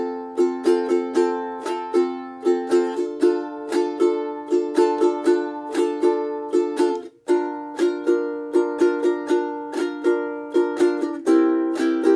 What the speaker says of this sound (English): you could add a rasgueado strum, which is where you run all 4 fingers across on beat 2 of the island strum